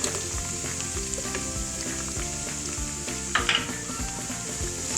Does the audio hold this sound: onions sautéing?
yes